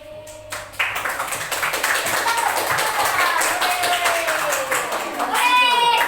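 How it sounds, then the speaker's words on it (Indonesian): A classroom of children applauds one group in a school lesson, with sustained dense clapping that swells after a brief start and continues under excited children's voices. "Tepuk tangan untuk kelompok 4."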